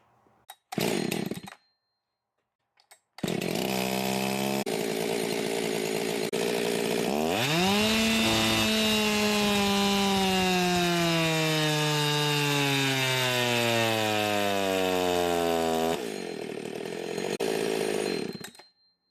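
A ported Jonsered 670 Champ chainsaw on a dyno gives a few short revs after a gap, then a long cut. The pitch drops under load and climbs back steadily before a final loud, high rev-out.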